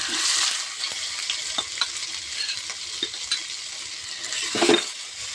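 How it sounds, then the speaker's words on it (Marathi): Ground peanuts and fresh grated coconut roast in hot oil with curry leaves and cumin, making a continuous sizzle with regular spatula scrapes and stirs up close. A louder burst of frying comes near the end. "वाटलेले शेंगदाणे, ओलं खोबरं आपण तेलावर भाजून घेऊ."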